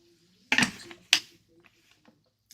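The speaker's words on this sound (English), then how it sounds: "I don't know if any of you have a soda stream, but I have one." A home SodaStream machine carbonates sparkling water in two loud, sharp hissing bursts about half a second apart, followed by faint clicks and rustles, close by with no talking.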